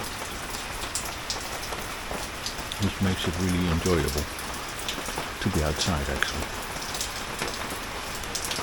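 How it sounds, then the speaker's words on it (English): Steady rain patters on a semi-cover over a backyard grape patch, a dense continuous hiss throughout while someone talks close by. "Oh yeah, raining."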